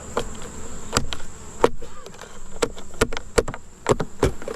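Honey bees buzzing around a beehive with an entrance reducer fitted, individual bees zipping close past the microphone in repeated sharp passes over a faint hum from the hive.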